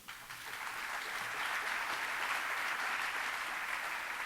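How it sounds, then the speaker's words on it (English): A conference audience at a Python event applauds a speaker with sustained, even clapping from many hands that swells briefly and then stays steady. "give a big round of applause for Dougal Matthews and Effective Code Review"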